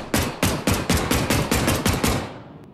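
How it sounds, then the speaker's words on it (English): Rapid, evenly spaced gunshots from a real gun in the Peaky Blinders: The King's Ransom VR game, about nine loud sharp cracks in a steady rhythm, close and alone, then a brief tail fading out. "Damn, this is a real gun? I thought this was gonna shoot blanks."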